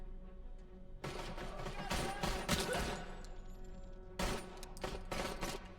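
Gunfire in the video game RoboCop: Rogue City: bursts of rapid shots from about one to three seconds and again near four and five seconds, loud and close, with a brief lull between volleys.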